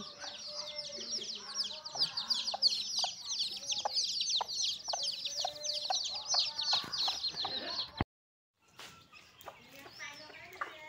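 A mother hen clucks in low, repeated calls while her chicks keep up a dense, continuous high peeping nearby; the sound cuts out briefly, then faint chirping resumes.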